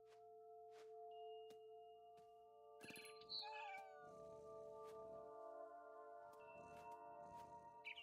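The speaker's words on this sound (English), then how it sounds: "there was a cat." A cat meows a few times in a video game over a steady electronic background of sustained tones and music, with some noisy bursts in between.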